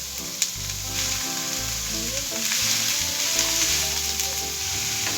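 Minced meat hits hot oil with softened chopped onions in a wok and sizzles loudly. The frying crackles continuously, with brief stirring scrapes and no talk.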